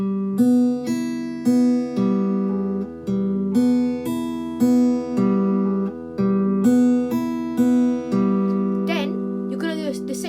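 Clean guitar open strings picked in a steady repeating arpeggio pattern, a song's intro, each note ringing into the next with even rhythm, close and clear with no talking.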